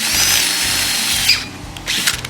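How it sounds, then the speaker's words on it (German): A power drill pre-drills a hole for a thread in a 1954 Sachs Alpa bicycle hub, whining at high speed for over a second, then winding down and stopping, followed by a few brief rattles and scrapes. "Wir haben jetzt natürlich einen speziellen Bohrer für das Gewinde. Jetzt tun wir das einmal vorbohren."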